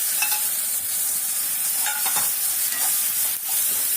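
Ground masala of pepper, cumin, curry leaves, onion and tomato frying in a pan for fish curry, a steady loud sizzle with occasional stirring scrapes, close and without talk.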